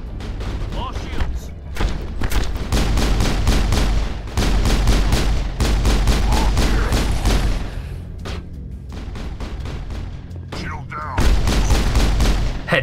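Gunfire in the Mass Effect 1 video game: repeated sharp shots and booms in rapid bursts over continuous loud combat noise, with pauses between volleys.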